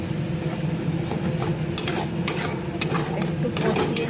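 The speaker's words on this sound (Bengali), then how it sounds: "পেঁয়াজটা ভাজা ভাজা হয়ে গেছে, পেস্টটা এর মধ্যে দিয়ে দিলাম" A fenugreek spice paste frying with browned onion while a spoon stirs it. A dense, close sizzle rumbles throughout, and repeated scraping and clinking strokes grow busier toward the end, with no voices.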